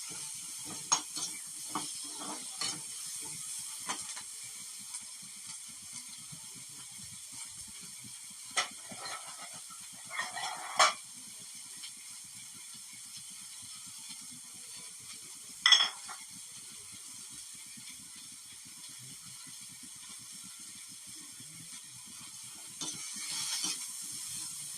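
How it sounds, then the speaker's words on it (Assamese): Ginger and garlic fry in a pan with a faint, steady sizzle. Scattered clicks and scrapes of stirring come through at intervals, and no one talks. "ধুনীয়াকৈ এনেকৈ ফ্ৰাই কৰি ল'ব।"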